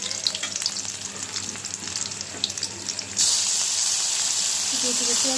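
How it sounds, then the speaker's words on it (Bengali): Onions sizzle and crackle in hot oil nearby, with scattered stirring sounds; partway through the sizzle swells into a louder, steady hiss. "পেঁয়াজটা হালকা একটু লাল করে ভেজে নেব"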